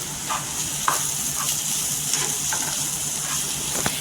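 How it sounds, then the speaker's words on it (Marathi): Fried potatoes tossed in oil in a pan, a steady close sizzle broken by scattered spatula scrapes and small knocks, with no talking. "इथे आहे ना पूर्णपणे अशी बटाटी तेलावर परतून घ्यायची"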